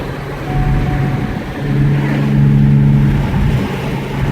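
A 2015 Ford Mustang with a V6 engine accelerates on the road, its exhaust a close, steady droning hum that rises in pitch and swells louder midway before easing, with no talk over it.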